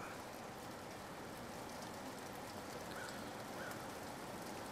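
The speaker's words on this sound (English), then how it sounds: "Just me, or is that rain really loud?" Steady rain falling in a survival roguelike video game, an even, dense hiss of drops that stays constant throughout.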